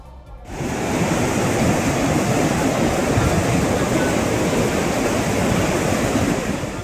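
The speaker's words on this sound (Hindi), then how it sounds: "बादल फटने के बाद नदी के किनारे बने घरों को डुबाता हुआ पानी तेजी से आगे बढ़ रहा था।" Floodwater surges loudly and continuously after a cloudburst in Nandanagar, Chamoli, pushing past riverside houses, a dense steady roar that starts abruptly and holds without pause.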